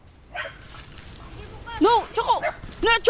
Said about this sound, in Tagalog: Ay, may dalawang aso.